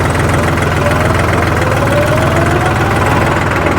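A New Holland 3630 Super Plus tractor engine runs steadily and loudly up close, a continuous low diesel throb with a rising tone as the revs climb, no voices over it.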